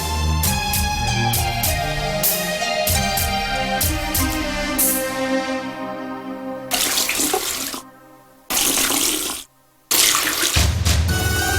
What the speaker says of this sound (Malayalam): പോയി ശീലോഹ കുളത്തിൽ കഴുകുക.